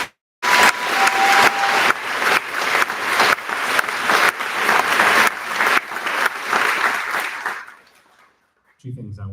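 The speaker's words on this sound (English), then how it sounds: "Can I have some clapping for that?" An audience at a live talk in Washington D.C. breaks into loud, steady applause that holds for several seconds, then fades out into silence before a voice briefly returns.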